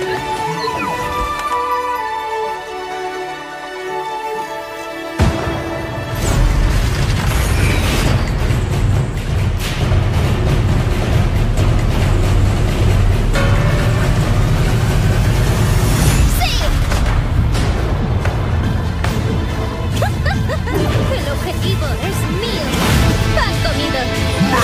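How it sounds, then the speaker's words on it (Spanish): Fireworks in Overwatch during the Year of the Rooster event, a loud sustained barrage of crackling bursts and booms beginning suddenly after a calmer musical opening and continuing to the end, with game voices heard beforehand. "¿Quién quiere fuegos artificiales?"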